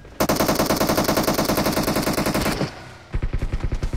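Rapid automatic gunfire in PUBG, a loud sustained burst of evenly spaced shots, then a short pause before another quick burst of shots.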